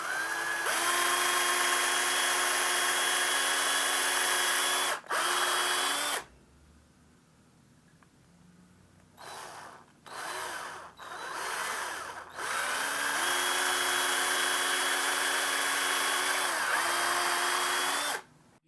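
A power drill bores into wood while a TP-Link Tapo C216 camera is being mounted, running in long loud whining bursts with a short pause and several brief stop-start pulses in between.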